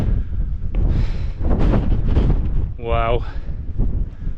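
Strong wind gusts roar across the microphone on Bow Fell, a mountain top in the UK, loud and buffeting, while a man briefly exclaims over it.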